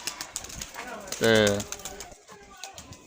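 Pigeons let out from a loft at a Sialkot pigeon club flap their wings in a burst of fluttering, with a brief tonal call mid-way, while someone talks nearby over the wingbeats.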